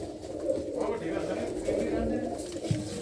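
Pigeons coo in low, soft repeated calls among a loft of fancy pigeons, set against steady background noise.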